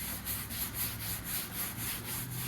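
Someone hand-sands epoxy primer on a car door of a 1979 Volare wagon with 220-grit paper, making rhythmic back-and-forth rasping strokes, about four per second, close and even.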